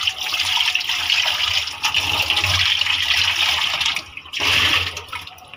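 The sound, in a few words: washing a cooking pot with water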